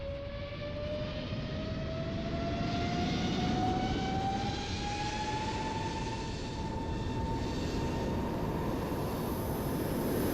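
An Aer Lingus airliner takes off in Microsoft Flight Simulator 2024, a steady loud jet engine roar with a rising whine that holds throughout, no talking.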